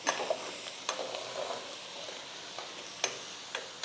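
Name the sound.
frying chickpeas in oil in a pan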